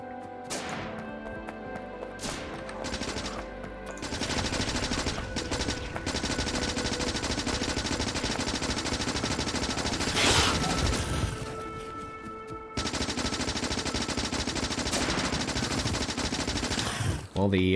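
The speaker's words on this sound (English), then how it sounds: "the shooting is certainly happening a lot faster than it was" Gun turrets in the Factorio video game fire rapid bursts at attacking biters, dense machine-gun rattling that runs almost continuously with brief gaps between volleys, loud and sharp, with some talking underneath.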